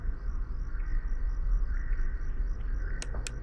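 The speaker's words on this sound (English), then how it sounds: "Those crickets are louder than anything." Crickets chirp steadily in a Five Nights at Freddy's fan game, a constant layered insect trill over low rumbling ambience, with a couple of sharp high clicks near the end.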